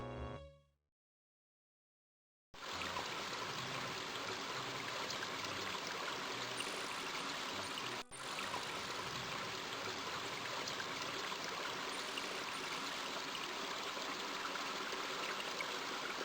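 Flowing river water in the King's Quest 5 video game: a dense, steady rush of water after a short burst of tones and a moment of silence, continuous and loud with one brief dropout.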